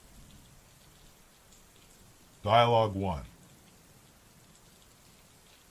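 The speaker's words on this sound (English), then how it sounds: "Back in Texas, a little rain like this is nothing" Rain falls steadily in traffic, a soft, even hiss that lasts throughout at moderate level. One voice speaks briefly over it midway.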